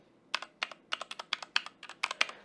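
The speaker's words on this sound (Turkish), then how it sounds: "Red Switch kullanılmış ve tuşlara bastığınız zaman membran klavye gibi ses çıkartıyor" Keys tapped in a quick, slightly irregular rhythm on a mechanical keyboard, soft, muted clacks close up in a quiet room.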